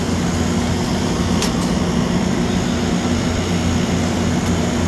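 A rooftop refrigeration compressor unit pumps down with a steady, loud mechanical drone and fan hum, constant throughout with a couple of brief clicks.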